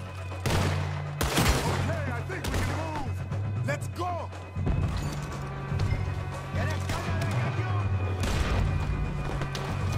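Pistol gunfire in Red Dead Redemption 2 during a Mexican standoff, several sharp close shots and impacts cracking out over a low droning game soundtrack, with no voices heard.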